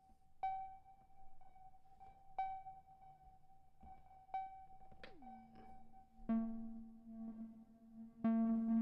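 Granular reverb running on a Music Thing Modular Workshop Computer modular synth, with repeated plucked tones ringing into a grainy sustained tail, then a downward pitch sweep settling into a lower droning note with fresh bright attacks.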